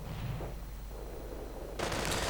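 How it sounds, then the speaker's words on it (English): Grenade blasts and gunfire in a World War II strategy video game battle: a steady busy rumble of shots, then a loud sustained burst of crackling fire near the end. "Grenades going off, actually causing some considerable harm."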